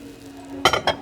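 Glass salad bowls clink while handled on a discount store shelf: two sharp, close clinks about a quarter second apart after a quiet stretch of store hum.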